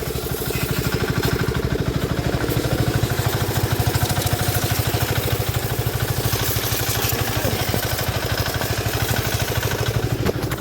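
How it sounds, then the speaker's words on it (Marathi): A tractor engine chugs at a steady idle close by, its rapid rhythmic thumping and clatter continuing evenly throughout with no voices. "तर इंजिन चालू झालेलं आहे"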